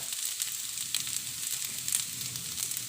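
Mushrooms being stir-fried dry in a pan give a continuous close, crackling sizzle with small irregular pops and soft stirring, and no one speaks.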